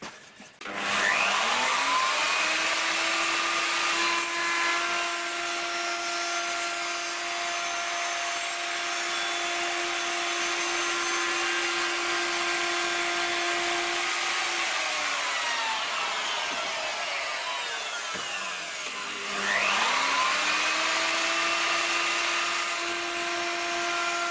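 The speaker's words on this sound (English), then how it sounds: "what I'm going to start with is a 45-degree chamfer all along this edge here" A power tool cuts a 45-degree chamfer along the edge of a wooden dining table, a loud continuous high whine that dips as the cut eases off near the end and then spins back up, with no voices.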